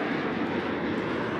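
A PZL TS-11 Iskra jet trainer flying at a night air show in Radom, its engine a steady, broad roar heard at a distance with no talk over it.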